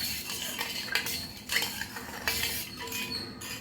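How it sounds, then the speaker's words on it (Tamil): A spoon stirs a flavoured milk drink for kids in a glass or cup, with quick clinking and scraping strokes against the sides, close and fairly quiet, no talking. "இப்போ இது நல்லா மிக்ஸ் பண்ணிக்கோங்க"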